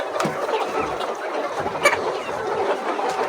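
Laying hens kept for eggs cluck in a farm shed, giving soft, scattered clucks over a constant murmur of the flock, with a few sharper calls standing out.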